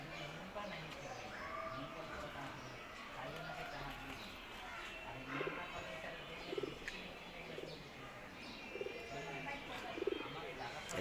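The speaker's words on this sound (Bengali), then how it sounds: "এই নর কইতরটা দেখেন" A male khaki pigeon coos in a series of soft, low, repeated calls, with other birds chirping faintly in the background.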